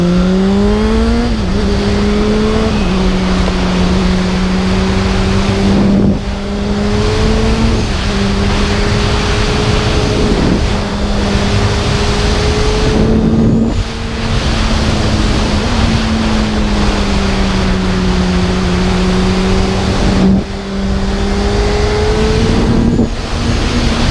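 A 2013 Honda CBR600RR sport motorcycle engine revving loudly and steadily while riding, its whine climbing through the gears with brief dips at each shift, all under constant wind rush.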